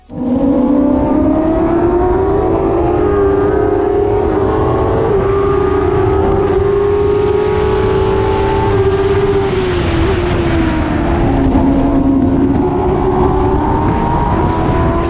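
Engine of a Predator PC015 formula race car heard on board during a race, a loud, continuous high-pitched wail that rises and falls with gear changes and throttle while overtaking, dipping briefly for a corner before climbing again.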